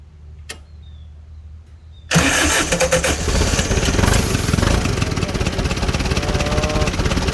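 A forklift's Isuzu engine cranks and catches after a quiet moment, then runs loud and rough with a raspy, rattling exhaust note from a leaking exhaust pipe, close by.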